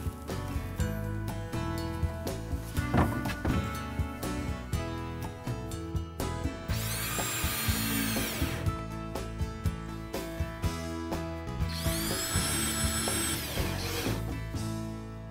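A power drill drives fasteners into wooden ledger strips for an alcove bath install, with repeated short whirring bursts and two longer rising runs of the motor, close and clear, no voices.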